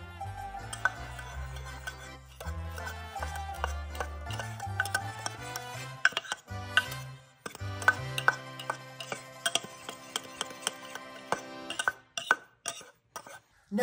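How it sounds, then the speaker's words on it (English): Jerk seasoning spices being mixed in a bowl with a spoon, producing irregular clinks and scraping taps against the bowl, close by, with soft background music underneath. "Once you've got all your spices in your bowl, you just need to mix them together."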